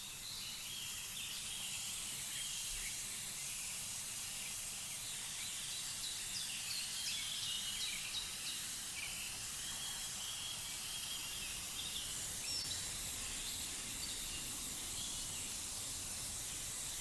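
An airbrush sprays transparent candy paint with a steady, faint high hiss that runs unbroken throughout, and no one speaks.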